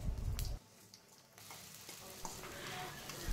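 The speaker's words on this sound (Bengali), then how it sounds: "কড়াতে এলাচ, দারচিনি, শুকনো লঙ্কা আর একটু জিরে ফোড়ন দিয়ে চিকেনটা বসিয়ে দেব।" Chicken frying in a wok with cardamom, cinnamon, dried chili and cumin seeds, a soft crackling sizzle beneath a loud rustle at the start, then a quieter steady hiss with small pops.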